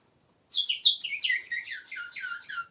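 A bird chirps alone after a brief silence: a quick series of about eight bright, high, warbling notes, close and clear, with nothing else audible.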